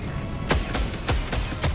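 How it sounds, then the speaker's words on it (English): Explosions in the Helldivers video game, a hellbomb among them: about five loud, sharp booming blasts at irregular intervals, each a brief broadband burst with a low rumbling tail, over steady game noise. "Yeah, I shot a hell bomb."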